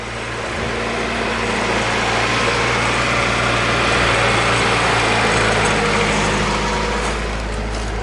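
A Honda CR-V engine in need of a valve adjustment runs steadily at idle close by, a loud continuous drone with a constant hum and a light ticking texture, and no voices.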